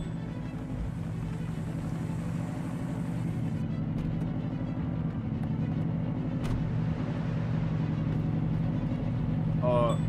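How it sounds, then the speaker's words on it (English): Car with a removed muffler or modified exhaust in Police Simulator: Patrol Officers, set in Boston. A loud, steady engine drone holds throughout, with a faint squeal near the end. "This guy took off his muffler or he modified his exhaust."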